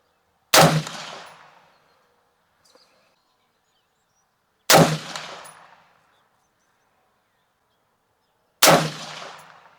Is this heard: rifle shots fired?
yes